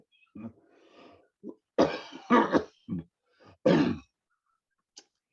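Several harsh, hacking coughs in quick clusters, close and loud, with short pauses and a breathy gasp between them, then a faint click.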